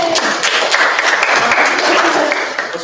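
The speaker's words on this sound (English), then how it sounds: "Let's hold our applause" Loud applause from an audience at a student government meeting, a continuous dense crackle of many hands clapping close by, with faint voices mixed in beneath.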